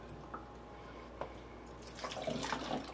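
Distilled water poured into a container for making apple water kefir, starting with a few faint drips and then building to a bubbling, splashing stream near the end.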